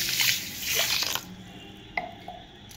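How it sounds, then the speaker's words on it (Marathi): One kilogram of wada kolam rice is swished and rinsed in water by hand, a busy splashing for about a second, then quieter drips and small splashes. "आता आपण तांदूळ धुवून घेऊया."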